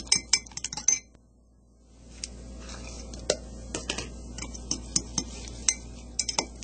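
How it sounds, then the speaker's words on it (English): Eggs whisked with shaved deli ham in a bowl: after a few clinks and a short pause, a fork or whisk taps the dish in quick, light, irregular clicks against a low background hum. "We'll whisk it in there."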